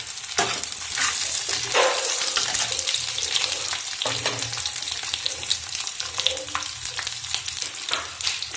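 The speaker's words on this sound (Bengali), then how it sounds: "লাল লাল করে ভেজে নেব। আমি লঙ্কা কুচি দিয়ে দিলাম।" Chopped chillies fry in a pan, giving a constant crackling sizzle with stirring scrapes and clinks of a utensil, close up and without speech.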